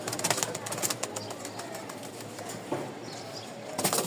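Lotan pigeons coo softly amid rustling and clicks as a pair is handled, with the low murmuring calls running continuously under a faint background.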